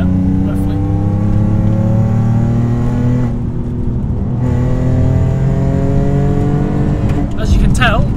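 An Alfa Romeo 147 GTA with its Busso V6 engine accelerates hard through the gears, loud rising engine tones broken by a brief lift-off gap, heard from inside the car while people talk over it.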